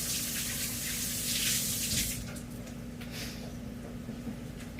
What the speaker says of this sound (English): Go wash my hands for a second.